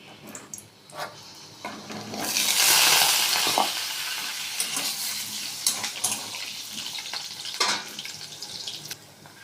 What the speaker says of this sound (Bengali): এবার কড়াতে তেল দিলাম, দিয়ে আমি আলুগুলোকে ভেজে নেব।